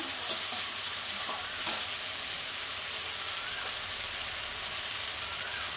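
Tengra fish curry with potato sautés in a pan with salt and turmeric, a continuous bright sizzle under steady stirring, with a couple of sharp spoon knocks against the pan near the start.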